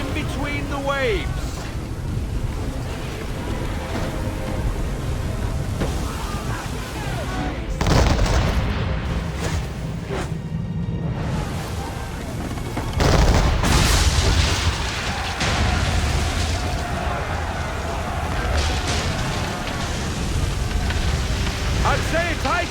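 Naval cannon fire booms during a raging storm battle at sea in Assassin's Creed III, heavy blasts rising out of constant roaring wind, rain and crashing waves, with voices talking over the din.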